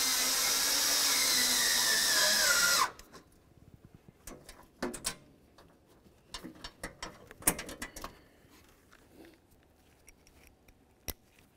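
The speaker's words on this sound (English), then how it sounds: "And now we'll use an 8mm on the nut. Go ahead and tighten these right up." A ratchet tightens 8mm nuts during a performance air intake install on a 2001-2006 Chevrolet Silverado 2500 HD. Quick, uneven bursts of small clicks follow a loud, steady whooshing noise that stops abruptly at the start.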